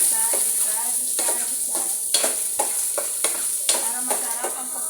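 Garlic and onion sautéing in a smoking-hot pan for adobo: a constant loud sizzle broken by regular, close scraping strokes of a spatula, roughly one every half second, with no voices.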